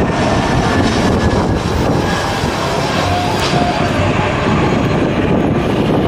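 Loud, steady broadband engine roar from passenger airplanes of Indonesian airlines such as Pelita Air and Lion Air, filling the whole stretch without a break and with no clear talk over it.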